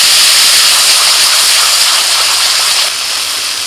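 A paste of burnt whole spices, onion, tomato, green chili and garlic hits a hot pan, giving a loud, steady sizzling hiss that eases slightly near the end.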